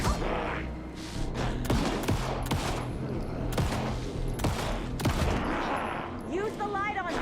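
Gunfire in Alan Wake 2 during a fight, a run of sharp shots spaced unevenly through loud, dense combat noise, with voices talking over the action.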